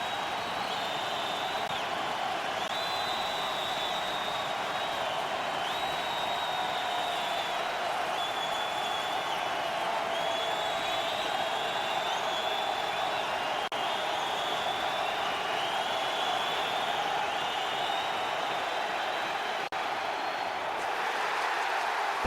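Crowd noise roars steadily throughout at an NFL game between the Oakland Raiders and Tampa Bay Buccaneers in 2012, a dense sustained wash of cheering with no clear breaks.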